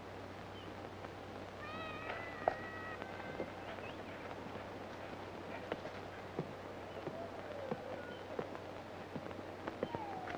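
A kitten gives a few faint, thin meows early on, set against a quiet background hum and occasional soft knocks.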